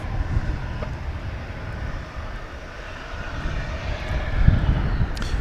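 An aircraft taxis past on the ground at DFW Airport, giving a steady low engine rumble with a broad airy roar. It stays fairly close and even throughout, with no voices.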